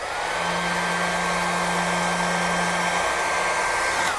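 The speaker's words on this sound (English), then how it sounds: "I'll show you what happens if you hold this hairdryer too close." A hair dryer held close to watercolor paper blows with a steady, loud whooshing hum for about four seconds, its tone dropping slightly near the end.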